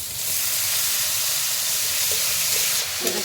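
Grated pointed gourd (potol) tipped into a hot pan of oil and ginger, giving a steady, close sizzling hiss that fills the whole moment without a break, with no talking.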